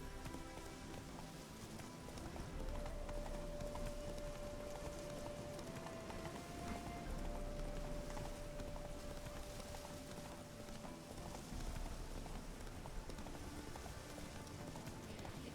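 Horse hooves clip-clop steadily from Roach galloping in The Witcher 3: Hearts of Stone, a continuous rhythmic patter over a rain-like wash with a faint sustained tone, moderately quiet throughout.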